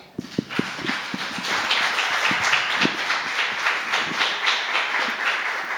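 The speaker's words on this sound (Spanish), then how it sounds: "Recibámosla con un fuerte aplauso" Audience applause at a nutrition program's anniversary conference, welcoming a speaker with steady, dense clapping from a crowd, moderately loud and continuous with a few sharper claps at the start.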